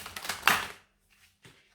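Tarot cards being shuffled by hand, a run of dense papery riffling bursts that peaks then stops, followed by a couple of faint soft shuffles after a pause.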